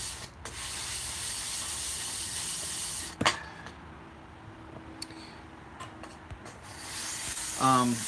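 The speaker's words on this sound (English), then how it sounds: "We're flattening stones right now" Sharpening water stones are rubbed flat against each other, giving a steady gritty scraping that runs nearly throughout. Near the end there is a brief clunk, and a faint voice is heard.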